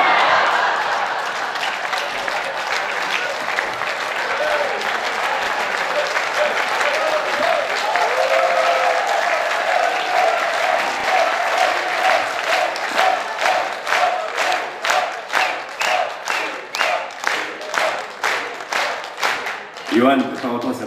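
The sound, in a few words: audience applause at a festival evening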